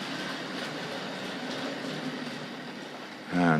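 Tri-ang and Hornby Dublo model trains run steadily on a layout track, a continuous light rattling whir, close by, that ends in a brief squealing clatter.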